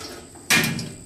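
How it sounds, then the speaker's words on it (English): The side access door on a 2006 Easy Lawn C95 trailer-mounted stainless steel hydroseeder opens with a single abrupt metallic clunk and brief rattle, close and fairly loud, with no talk. "We're going to go ahead and open up the side door over here."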